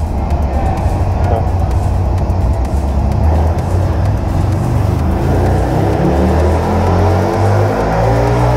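A Harley-Davidson V-Rod Muscle motorcycle engine runs loud and close on a dyno, a steady mechanical roar with a rising harmonic sweep in the second half as it revs up. Voices talk faintly under the noise.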